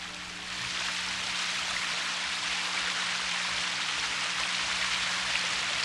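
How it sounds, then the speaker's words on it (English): A meandering stream in a traditional Korean garden rushes continuously toward a waterfall, a dense, even wash of flowing water that swells in after a brief quieter start. "a meandering stream which eventually opens out into a waterfall"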